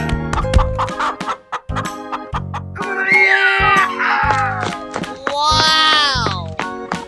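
A cartoon chicken clucks and squawks in an animal slide video game, rising calls over game music and sound effects, with voices talking and shouting around it.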